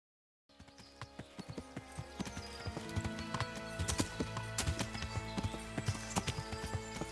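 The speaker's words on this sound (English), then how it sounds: "Henry's new horse was downright speedy, and he quickly reached the crossroads" A horse's hooves clip-clop at a brisk, steady ride in a video game, the quick rhythmic beats close and clear over a continuous tonal background.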